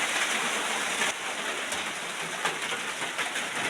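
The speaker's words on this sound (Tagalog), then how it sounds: "Lakas na ng ulan." Heavy rain pours down in a dense, constant hiss, with scattered drops striking a surface nearby.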